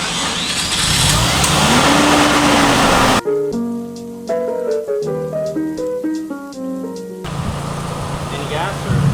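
A car engine starts and runs with a loud, rough roar, cut off by a stretch of melodic music in the middle before the engine noise returns, checked for transmission noises.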